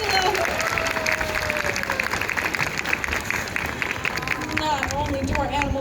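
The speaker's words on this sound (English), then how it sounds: "How about a round of applause for Camila?" A crowd applauds at the Animal Actors show at Universal Studios, with steady clapping throughout, mixed with voices and some tonal sounds.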